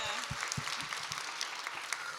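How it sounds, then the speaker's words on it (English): Audience applause at a Karen Gillan Q&A, a steady patter of clapping from a moderately sized crowd lasting a couple of seconds, with a few faint voices underneath. "Give yourselves a round of applause"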